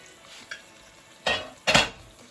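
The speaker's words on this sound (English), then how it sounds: "And you can see here they're frying away nicely." Dumplings frying in a pot, heard as quiet sizzling with a couple of brief loud scraping stirs partway through.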